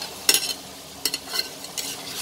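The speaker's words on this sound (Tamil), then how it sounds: "இப்போ வந்து நம்ம மேரினேட் பண்ணி வச்சிருக்கிற பன்னீர் வந்து உள்ளே சேர்த்துக்கலாம்" Marinated paneer tipped into a hot frying pan and stirred, giving a few sharp scraping, sizzling bursts separated by a quieter frying hiss, with no voices.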